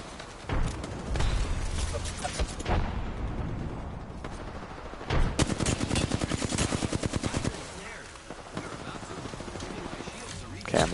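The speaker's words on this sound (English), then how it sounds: "Yeah, I'm shooting your dead body" Rapid automatic gunfire in the battle-royale shooter Apex Legends, bursts of close, loud rattling shots in quick rhythmic runs with pauses, while a player talks over parts of it.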